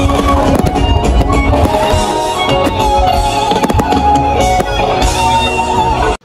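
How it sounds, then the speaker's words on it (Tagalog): Fireworks at a concert in Dumaguete City crackle and pop continuously as one dense, loud roar with sharp bangs scattered through it over crowd noise, cutting off abruptly at the end. "Thank you kaayo sa nagpabuto og fireworks."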